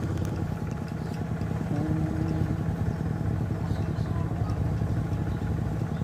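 A tractor driving through floodwater chugs continuously with a steady, loud clattering engine and a rough mechanical rumble, no pauses.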